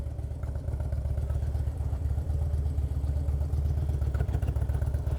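A motorcycle engine runs steadily at night on a street in Chinatown, its low, even, throbbing putter close and continuous as the bike rolls along and slows to park.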